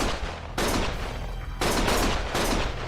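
Sustained gunfire in the video game Lost Judgment comes in three loud, dense volleys of rapid shots, each breaking off abruptly before the next begins, close and harsh.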